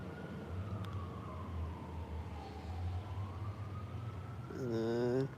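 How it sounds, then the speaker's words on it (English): An emergency vehicle siren wails on a street, its tone sweeping slowly down and up at a moderate distance under steady traffic rumble, with a brief louder horn-like burst near the end. "And a siren starting up at the same time"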